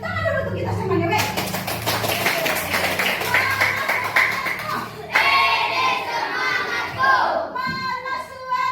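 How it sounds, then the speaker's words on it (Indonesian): A class of students clapping their hands in a classroom, a burst of quick overlapping claps lasting several seconds, mixed with children's voices and an adult speaking. "Tepuk tangan dulu untuk kita semuanya,"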